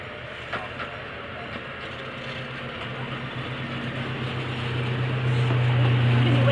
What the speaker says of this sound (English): So we're waiting for our train.